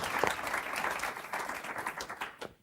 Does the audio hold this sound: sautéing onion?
no